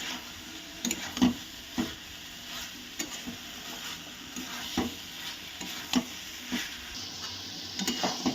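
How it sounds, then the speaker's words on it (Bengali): Fried potato and soybean chunks being stirred into a sizzling masala in a pan: a spoon scrapes and knocks in an uneven rhythm over a constant frying hiss, close and clear, with no voices. "আমরা আলু আর সয়াবিনটাকে আমি ভালো করে মশলার সঙ্গে মিশিয়ে নিয়েছি"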